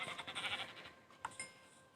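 Short Minecraft sheep bleats, layered over a busy mix of game sounds, with a brief sharp call near the end.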